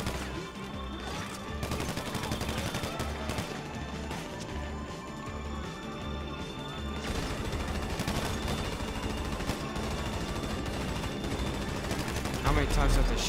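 Rapid gunfire in the GTA video game, dense repeated shots and bursts that pound steadily throughout, loud and close, with a heavier crash near the end.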